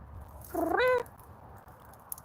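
A pet cat named Nubs gives one drawn-out, rising-then-falling meow, fairly close and clear against quiet room background, with no talking over it.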